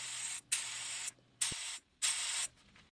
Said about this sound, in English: Now blow some air through the tool to ensure you remove all the brake cleaner.